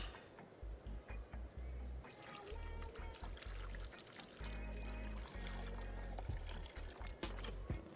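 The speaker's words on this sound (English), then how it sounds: "Now get in some clean water." Clean water pours steadily into a container of washed coconut for hominy corn porridge with breadfruit, with a continuous splashing fill and faint drips in a kitchen.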